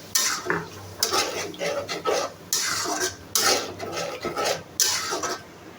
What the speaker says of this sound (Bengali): আবারও মশলাটাকে 3-4 মিনিট কষিয়ে নিব।